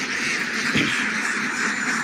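A single duck quack rises briefly over a steady outdoor background hiss in a paddy field, with no other calls nearby.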